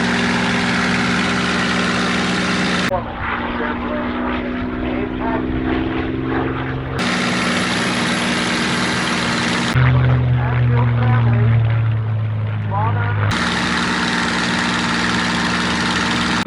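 A Supermarine Spitfire's propeller engine runs at low speed at an air show, holding a steady, loud droning hum whose tone shifts between smoother and rougher stretches throughout.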